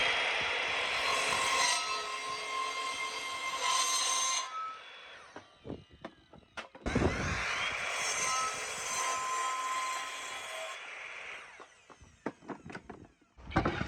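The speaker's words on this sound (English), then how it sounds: "We're going to start off by just cutting all the timber down to size" Timber is cut down to size for a campervan bench seat, a power saw whining through the wood in two long sustained passes, separated by knocks and clunks as pieces are handled, and ending in scattered taps.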